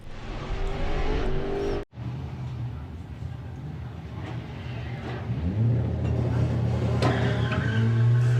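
Engines of drag race cars in Volkswagen drag racing eliminations roar and rev loudly, swelling as the cars accelerate off the line, with a brief dropout early on and an announcer talking over the noise.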